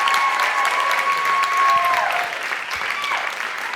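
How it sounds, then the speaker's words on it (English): Applause from a crowd at a school cabaret show, steady clapping that fills the whole stretch at close range and stays loud throughout. "can we get another round of applause for all these wonderful people?"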